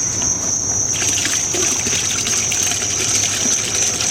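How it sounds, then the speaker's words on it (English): Water flowing steadily through a glazed garden fountain driven by a pump, a constant close trickling and splashing with a bright, even rush that holds at the same level throughout. "Looks like we have a good water flow."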